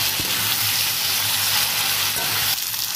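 Potatoes fry in a pan with onion, salt and turmeric, giving a loud, steady sizzle up close with a few scraping stirs, and no voices.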